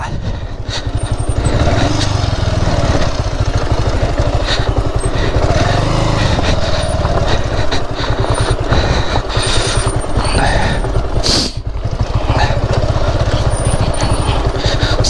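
A Bajaj Avenger motorcycle engine labours loudly and steadily up a rough, potholed hill track near Sakleshpur, with constant low revving, jolting bumps and wind buffeting throughout.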